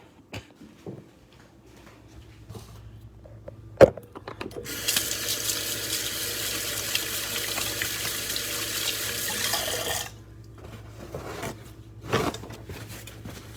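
A kitchen tap runs in the middle stretch while hands are washed beneath it, a moderate steady splash that starts and stops abruptly. Quiet clatter comes before and after, and no one speaks.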